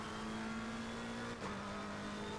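A race car engine holds a steady high whine in a racing video game, dipping briefly as the throttle lifts, then resuming its continuous drone.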